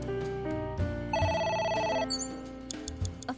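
A phone rings in AI: The Somnium Files, a loud electronic trill that repeats in bursts over background game music, with no one talking.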